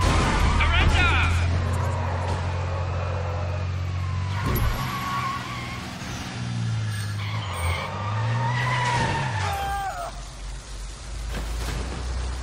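A car is driven and skids in the video game Sleeping Dogs, with steady engine drone and a couple of long tyre squeals rising and falling, all close and loud.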